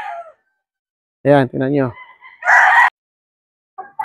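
Gamefowl hens in a breeding pen cluck and call in a short burst, with a brief crow-like cry, between stretches of quiet and a voice speaking nearby.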